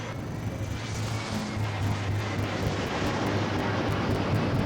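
Lockheed C-130J Hercules turboprop airliner flying at an air show, a steady, broad engine roar with propeller hum that holds at an even level throughout.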